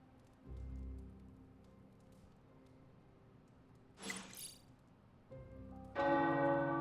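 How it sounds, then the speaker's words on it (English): Tower bells in a video game, Marvel's Midnight Suns, ring out in a bright, clanging burst, loud and full after a quieter stretch with a low rumble and a brief hiss. "The tower bells are ringing."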